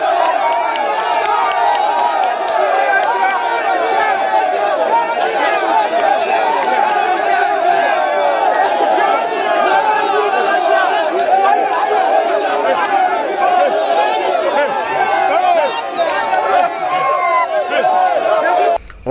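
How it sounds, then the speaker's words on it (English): Crowd of young boys cheering, whooping and chattering around a divisional police officer in Mpape, Abuja, after a foiled bank robbery; a loud, dense, continuous roar of overlapping voices close by. "The divisional police officer of Mpape is surrounded by young boys cheering her"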